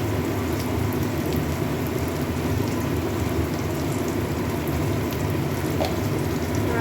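Taro flowers dropped into a hot pan of oil, frying with a steady, dense sizzle and crackle that holds loud and even throughout, with no talking.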